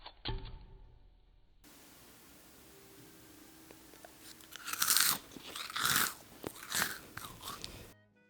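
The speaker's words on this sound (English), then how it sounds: "I baked mine for 3 hours and the level of crunchiness is out of this world." Several loud, crisp crunches from biting into a crunchy meringue cookie, close up, with quiet rustling before them and no talking.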